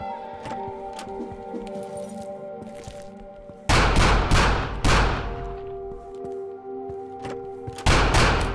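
Gunfire in the video game The Final Station: several sharp, loud shots in separate bursts, each ringing out with a decaying tail over a steady background hum and faint metallic clinks.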